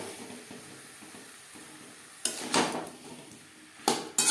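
Cauliflower, boiled potatoes and spices are mixed in a pan over a faint background sizzle, with a few short bursts of scraping and clinking from a spoon against the pan. No one speaks.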